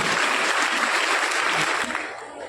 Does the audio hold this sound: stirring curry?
no